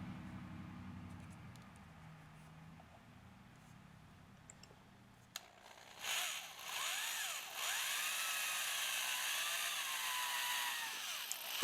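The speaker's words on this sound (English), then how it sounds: "I drilled a countersunk hole in the top of the stand." A power drill bores a countersunk hole into a wooden stand, whirring steadily and close for several seconds with slight pitch shifts as the bit cuts, after a quieter stretch of low background hum.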